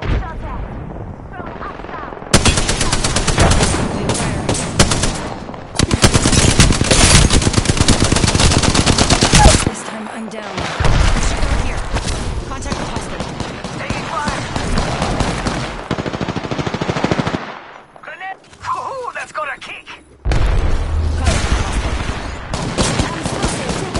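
Loud automatic gunfire rips through an Apex Legends match in long sustained bursts broken by brief pauses, with booming impacts and some voices talking over the shooting.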